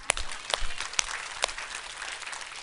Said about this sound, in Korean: 여러분 스스로 박수 치는 거 아니죠?